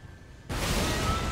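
A sudden loud blast in Elden Ring cuts in halfway, then gives way to a sustained roaring rumble that fills the rest of the moment.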